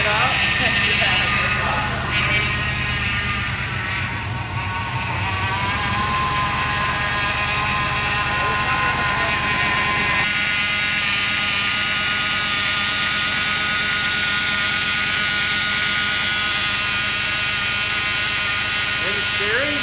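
A K5 Blazer engine runs loud and steady at idle throughout, a continuous rumble with people talking over it in the first half.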